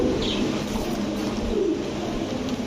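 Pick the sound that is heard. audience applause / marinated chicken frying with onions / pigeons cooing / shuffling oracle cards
pigeons cooing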